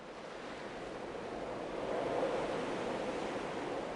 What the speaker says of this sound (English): They did a good job timing when a gust of wind comes across your screen with the audio.